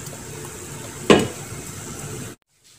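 A pot of water boiling on a stove, a steady bubbling hiss with one sharper splash partway through, then cutting to near silence.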